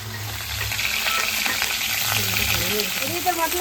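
Cauliflower frying in a pan, a dense, continuous hiss of sizzling oil with occasional stirring scrapes, close and fairly loud, while faint voices murmur in the background.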